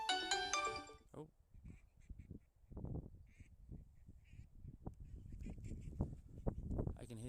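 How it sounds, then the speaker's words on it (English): Ducks quack faintly at night during a live nocturnal herping outing, a few scattered distant calls under a person talking close by, after a short ringtone-like electronic tone at the start. "I can hear duckies."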